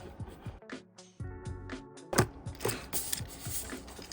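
A screw driven back into a cXc X-Transbots Survivalist Ollie toy robot figure, heard as close, small ratcheting clicks and plastic creaks in short uneven bursts, quiet and without talk.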